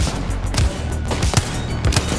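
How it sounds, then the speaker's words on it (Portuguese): Gunshots fired in an online shooter game, several sharp low bursts spread across a couple of seconds beneath steady game noise and broadband background. "Manda um tiro pra ela cair."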